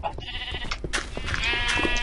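Green sheep in the Minecraft video game bleat amid busy game sounds, with a few overlapping calls over steady background noise.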